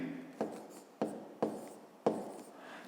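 Pen strokes on paper during a fifth-grade math exercise come as four quiet, close scratching bursts at uneven intervals, each sharp at the start and fading.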